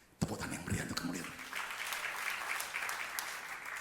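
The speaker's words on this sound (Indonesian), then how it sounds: "Tepuk tangan yang meriah untuk kemuliaan." A church congregation bursts into applause during a sermon on marriage and forgiveness; after a sharp start, clapping builds and stays steady, with a voice briefly speaking at the outset.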